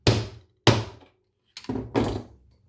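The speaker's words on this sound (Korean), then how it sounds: "망치 소리가 좀 나요." Four heavy, close hammer blows strike a leather punch during leather crafting, two single thuds followed by a closer pair, each dying away quickly.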